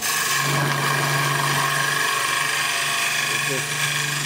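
A skew chisel makes plunging cuts into a wooden sword part spinning on a lathe, giving a loud, continuous scraping hiss with a steady low hum beneath it.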